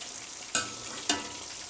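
Chicken wings frying in hot oil give off a steady close sizzle, broken by two brief sharp bursts of louder crackle.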